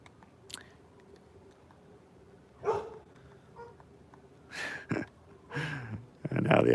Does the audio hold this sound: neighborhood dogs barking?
yes